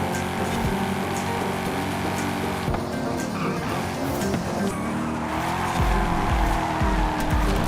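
A car accelerates along a straight in Forza Horizon 5 at sunset, its engine droning loud and steady with tire squeal and skidding noises layered over it throughout.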